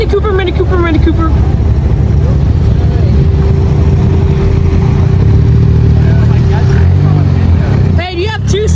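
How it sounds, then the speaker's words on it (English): Turbocharged car engine revving at a supercar meet at a Lamborghini dealership in Orlando, a loud sustained roar with shifting pitch close by, while voices shout and chatter over it. "listen to that turbo"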